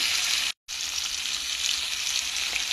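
Potatoes sizzle steadily in hot oil with ginger, cumin paste and turmeric in a home kitchen, a loud, continuous hiss broken by one brief dropout near the start.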